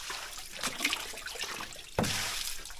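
Strong spring water flows steadily from a pipe, swelling during heavy rain, giving a soft continuous gushing and splashing with a sudden louder surge about two seconds in, no voices.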